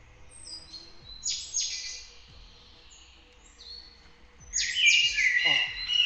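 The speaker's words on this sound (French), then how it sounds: "je remets la musique des oiseaux" Recorded birdsong plays as music during a Warzone game stream, with bright chirps and trills in scattered phrases, a louder flurry near the end, and soft low thumps underneath.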